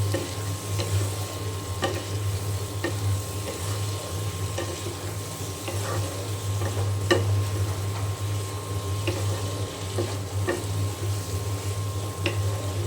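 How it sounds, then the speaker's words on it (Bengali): Pointed gourd and potato sautéed with spices in a pan, steady frying sizzle with repeated spoon strokes and scrapes, over a constant low hum, close and continuous, no voices. "এখন মশলার সঙ্গে ভালো করে কষিয়ে নেব।"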